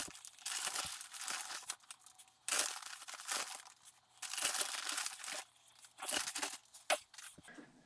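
Potting soil is poured and spread into a microgreens tray indoors, giving bursts of dry crumbly rustling and crinkling, close and moderately loud, with brief quieter pauses between pours and no talking.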